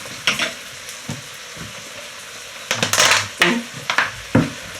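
Cooking oil in a wok with butter crackles and hisses in bursts, interrupted by clattering stirring and scraping strokes that come in uneven pulses, loud and close.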